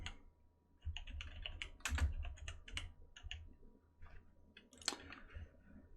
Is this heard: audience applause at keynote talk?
no